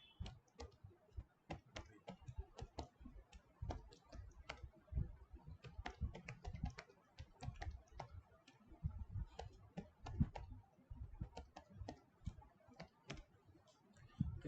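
Steady computer keyboard typing with rapid, irregular key clicks, fairly quiet and continuous throughout, no voices.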